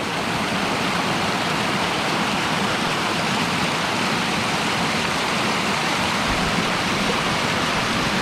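The Middle Fork Snoqualmie River near North Bend, Washington rushes past close by, a loud, steady, unbroken roar of running water with no voices.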